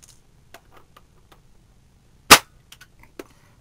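A single sharp shot from a Well L96 Warrior airsoft rifle fired through a chronograph, a crisp snapping crack standing alone amid quiet small ticks and handling clicks.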